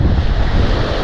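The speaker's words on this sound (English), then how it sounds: "those waves are really powerful" Powerful ocean waves surge and break along Lido Beach, a loud continuous wash of surf with wind buffeting the microphone and no voices.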